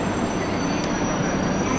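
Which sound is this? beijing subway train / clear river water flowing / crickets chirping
beijing subway train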